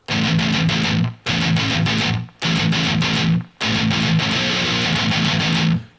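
Heavily distorted electric guitar chugs through an intro riff, loud and dense, in four bursts split by brief abrupt stops, with no talking over it.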